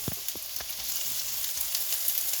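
Chicken fried rice ingredients frying in a pan give a steady, close sizzle with a few soft stirring knocks near the start, continuing alone without any voices.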